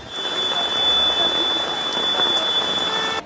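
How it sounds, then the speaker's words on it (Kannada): Heavy rain falling on Bengaluru streets, a dense steady hiss of drops on hard surfaces with a faint thin electronic whine running through it, loud and even throughout. "ಜಯನಗರ, ಮಲ್ಲೇಶ್ವರಂ ಸೇರಿದಂತೆ ಹಲವೆಡೆ ಭಾರೀ ಮಳೆ ಸುರಿಯಿತು"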